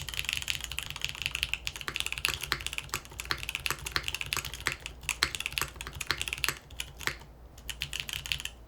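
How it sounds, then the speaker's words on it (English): Continuous typing on a Logos 60% mechanical keyboard with a numpad, fitted with Tecsee Mango Ice Cream tactile switches, giving rapid, close, muted clacks in an uneven flow with no voices. "So we have some tactile switches. These are Tecsee Mango Ice Creams, I believe."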